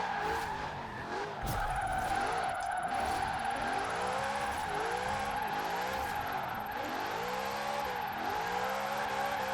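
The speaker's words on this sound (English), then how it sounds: "spinning those wheels very easy" A Lexus RC F in Forza Horizon 4 spins its wheels, its tires squealing loudly and continuously over a revving, wavering engine note. The sound is close and sustained, and no one talks.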